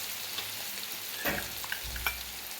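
Kashmiri red chili powder and masala frying in melted butter in a pan for Mumbai-style pav bhaji, giving a steady close sizzle with a few stirring scrapes and small pops.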